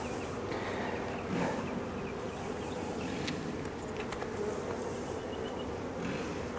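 Honeybees in an open hive during an inspection make a dense, continuous buzz close by, steady and full with occasional sharper individual passes, no talking.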